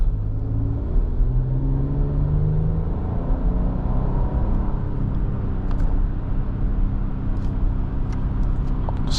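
A 2026 Nissan Armada NISMO luxury SUV with a twin-turbo V6 accelerating, a steady rising engine drone with gliding tones under road rumble, heard from inside the cabin, loud and continuous.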